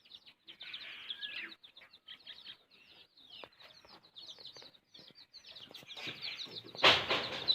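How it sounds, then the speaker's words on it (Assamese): Newly hatched local chicks, just taken from an incubator, peep and cheep in quick overlapping bursts. The chirping is close and continuous, builds into a louder cluster near the end, and no one speaks. "এয়া বৰ্তমান মই পোৱালি উলিয়াই থোৱা হৈছে।"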